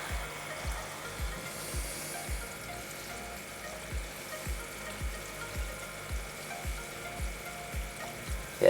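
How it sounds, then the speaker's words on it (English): Resin in an aquarium resin reactor bubbles gently, with soft regular low pulses about twice a second over a faint continuous watery hiss. "it's only going to be a gentle bubbling of the resin"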